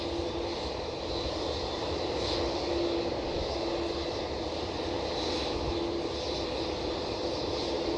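Rolls-Royce jet engines on an airliner at Manchester Airport roar steadily as they spool up for takeoff, a loud continuous rumble with a faint whine on top, heard from a cold, windy viewing area.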